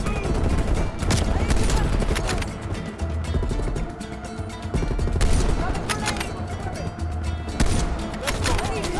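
Rapid bursts of gunfire from the video game Call of Duty Black Ops Cold War, loud and near, with repeated volleys and sharp shots over a dense game soundscape.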